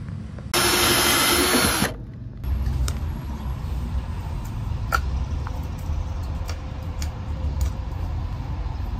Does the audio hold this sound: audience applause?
no